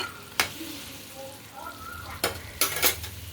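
Potol and potato curry stirred in a pan on the stove: a soft steady sizzle of frying, broken by several sharp scraping clanks of a spoon against the metal pan.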